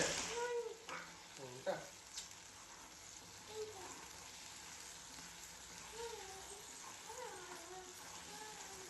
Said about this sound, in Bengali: তো তেলটা গরম হওয়ার পর ওই পেস্টটা আমি দিয়ে একটু হলুদ দিয়েছিলাম